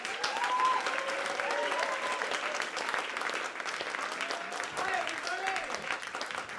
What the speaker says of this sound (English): Please thank him with your applause.